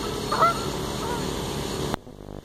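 Canada geese give a short, loud honk early on over steady outdoor noise. The sound cuts off abruptly near the end.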